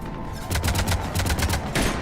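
Rapid bursts of cannon fire in the Mass Effect 3 video game, a tight volley of repeated booming shots lasting about two seconds, loud and close.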